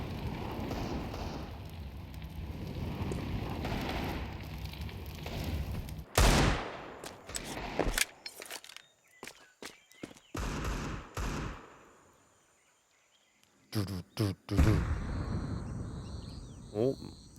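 A decoy grenade in Counter-Strike at a PGL Cluj-Napoca 2026 match goes off as scattered bursts of fake gunfire. Sharp crackling volleys come and go between short pauses, with live commentary talk running underneath.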